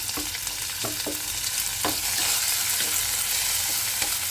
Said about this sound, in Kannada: ಈರುಳ್ಳಿ ಹಸಿಮೆಣಸಿನ್ಕಾಯಿ ಕರಿಬೇವು ಅದು ಹಾಕ್ಕೊಳ್ತಾ ಇದ್ದೀನಿ